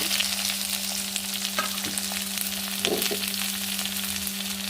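Cumin, chopped onion and a couple of curry leaves fry in oil for a brinjal gojju, making a steady moderate sizzle with a few soft stirring scrapes and no voices.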